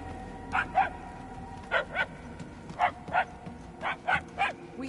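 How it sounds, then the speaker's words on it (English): A dog barks in Marvel's Guardians of the Galaxy video game, repeated pairs of sharp yaps at a fairly even rhythm, heard at moderate distance over a quiet ambient background. "The yapping is getting louder."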